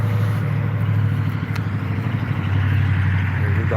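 A Dodge car's engine rumbles steadily nearby, a deep continuous low idle with slight fluctuations and no speech over it.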